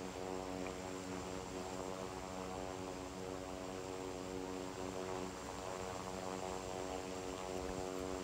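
Aircraft engine drone from the Infinite Flight simulator as a plane flies low through the Alps below the mountain peaks, a steady, even hum with layered tonal harmonics and no breaks or speech.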